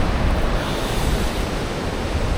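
Waves wash onto Antervedi beach at sunrise where the Godavari meets the sea, a steady broad roar of surf with wind noise on the microphone, continuous and fairly loud with no voices.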